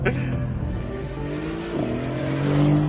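A Mercedes-AMG GT drives hard. The engine note climbs and shifts as it accelerates, loud and close, with faint tyre noise underneath.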